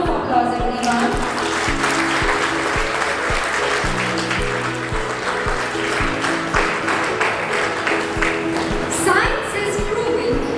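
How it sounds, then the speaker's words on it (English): A school audience at a World Health Day celebration gives a sustained round of applause, a dense continuous clatter of many hands, with music or a tonal hum and a voice faintly present beneath it. "welcome them with a round of applause, everyone"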